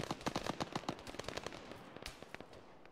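Rapid gunfire in Arma 3: a fast run of sharp cracking shots, some distant and some nearer, rattles in quick bursts and then thins to scattered reports with no talking.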